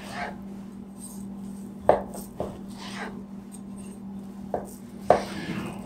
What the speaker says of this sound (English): these ones are going to be cut into steaks